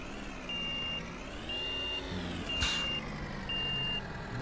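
A garbage truck reverses in a driving video game, with four evenly spaced electronic beeps pulsing at a steady rhythm over the low hum of a diesel engine. A brief air-brake hiss cuts in midway.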